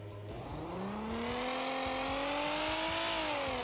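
A car in BeamNG.drive accelerates hard down a drag strip, engine note climbing steadily in pitch with a loud sustained whine as it pulls through the run, no voices over it.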